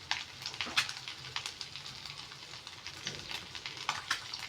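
Chili powder, salt and turmeric fry in hot oil with a steady, close sizzle, dotted with sharp crackles and pops throughout.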